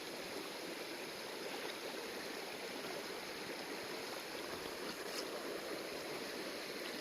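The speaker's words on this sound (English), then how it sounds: "Nothing like starting the day off with a nice river crossing though" Constant rushing, burbling water of a cold river being waded across in Kaimanawa Forest Park, New Zealand, steady and moderately quiet with no voices.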